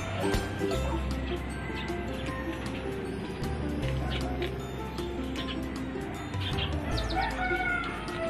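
A bird calls repeatedly, with crowing-like cries rising over a busy, noisy outdoor background where people are talking.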